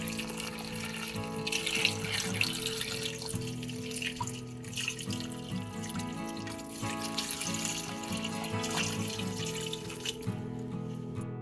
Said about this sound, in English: With the potatoes in the pot, now we'll add the vegetable stock.